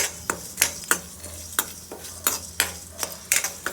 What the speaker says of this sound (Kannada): ನಾಲ್ಕು ಕರ್ಬೇವಿನ ಎಲೆ ಹಾಕ್ತೀನಿ ಅದನ್ನು ಸ್ವಲ್ಪ ಫ್ರೈ ಆಗಿ ಸೊ ಇದಕ್ಕೇನೆ ಒಂದು ನಾಲ್ಕು ಇಷ್ಟು ಬೆಳ್ಳುಳ್ಳಿ ಇದನ್ನು ಸ್ವಲ್ಪ ಫ್ರೈ ಮಾಡ್ಕೊಳ್ಳೋಣ